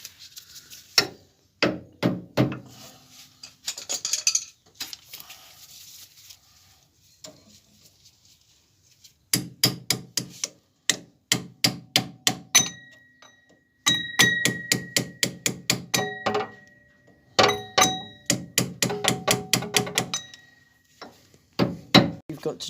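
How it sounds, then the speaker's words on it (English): Sharp metallic hammer strikes on a small washer in quick bursts, some ringing with a bright tone, with short pauses between runs and a few words spoken early on. "hammer in or hammer down one side and hammer up the other side of the little washer"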